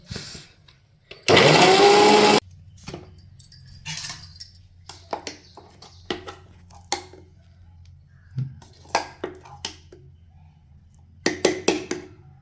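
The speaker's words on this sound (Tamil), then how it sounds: "இப்போ மறுபடியும் இது நல்லா அரைக்கலாம்." An electric mixer grinder whirs loudly in a single burst of about a second while grinding thuthuvalai chutney with a little water. Softer clinks and handling knocks from the jar and utensils follow.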